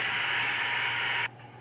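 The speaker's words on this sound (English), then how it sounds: "Okay, the meat's been browning just a little bit." Meat for Mexican chilli, beef or pork, browns in a juicy pot with a steady, close hissing sizzle that cuts off abruptly near the end, without speech.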